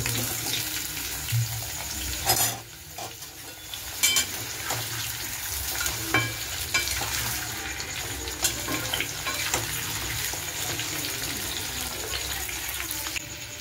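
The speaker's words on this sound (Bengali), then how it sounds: "এবার আলুগুলো দিয়ে দেবো। ডুবো তেলে আজকে আলু ভাজবো।" Potatoes deep frying in hot oil, a steady dense sizzle and crackle running continuously up close, with a few clatters and bumps along the way.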